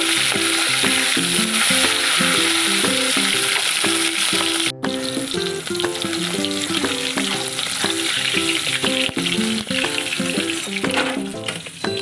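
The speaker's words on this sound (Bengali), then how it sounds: "আবার মাছের লেজা দুটো লাস্টে" Pieces of rohu fish frying in oil, a loud, steady close sizzle with crackling spatter running the whole time, briefly cut off midway, while music plays over it.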